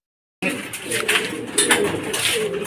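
Racing pigeons arrive at a loft during a fun race, with soft cooing and wing flutters heard up close while people talk nearby.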